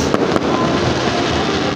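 A big yearly fireworks display at Araneta City heard in steady rain, with a dense, loud, continuous crackle and rumble of bursts and a few sharper pops standing out, no talking.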